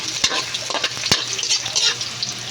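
Chopped garlic sizzles in hot oil in a pan until scorched, for a simple Filipino alogbati and fried fish dish. A steady crackling hiss runs throughout, with a few sharp scrapes and taps as it is stirred.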